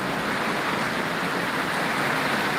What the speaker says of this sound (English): the water coming out of my downspout is like, it's like a torrent